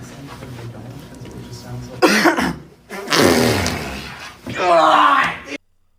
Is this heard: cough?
yes